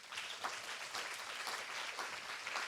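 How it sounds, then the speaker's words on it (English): A conference audience at an opening session of a student conservators' meeting gives a round of applause, quiet and somewhat distant, a continuous even patter of many hands with no voices over it. "please, a round of applause for Moritz Geismann and Raphael Kapau"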